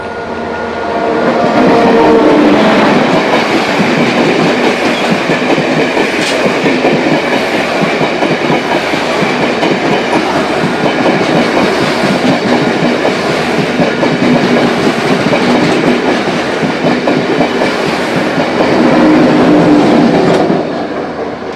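A train bound for Jaffna city rumbles past on the rails, loud and close, with steady clickety-clack from the wheels throughout and no voices.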